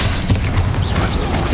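A Confringo fire spell exploding in Hogwarts Legacy combat, a loud, dense booming blast with crackling debris that fills the whole short moment at close range.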